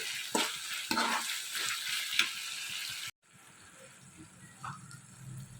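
Ginger-garlic paste sautés in a pan for a mushroom masala curry, giving a bright sizzle with a few stir scrapes that drops abruptly to a quieter, softer simmer partway through.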